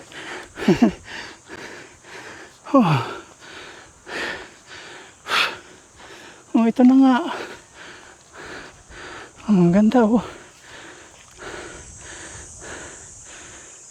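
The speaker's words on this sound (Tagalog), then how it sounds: "Hinihingal tayo." Heavy, labored breathing with repeated gasps and panting between short bursts of speech in a forest, close to the mic over steady wind noise.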